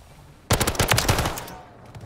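Rapid automatic gunfire from a shooter video game during a bomb-planting round, a loud dense burst of shots starting abruptly and running about a second before fading into game ambience.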